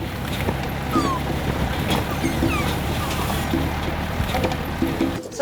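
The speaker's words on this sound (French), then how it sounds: "Ça, c'est un bruit d'alerte. Le petit gloussement qu'ils font comme ça," A lemur gives brief clucking alarm calls outdoors in a park, several short chirps at intervals over a steady rushing background of wind or water, fairly faint.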